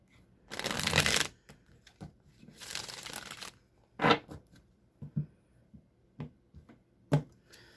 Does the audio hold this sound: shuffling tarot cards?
yes